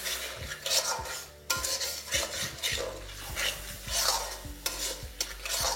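Curry spice paste is stirred and sautéed in a pan for chicken curry, with repeated scraping strokes of a utensil against the pan over a soft sizzle, rising and falling in uneven bursts.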